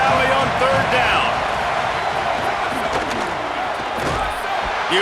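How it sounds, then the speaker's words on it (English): Big football stadium crowd in Happy Valley roaring on third down, a dense, sustained wall of noise with bursts of cheering, continuous and loud throughout. "Here comes the noise from this big crowd in Happy Valley on 3rd down."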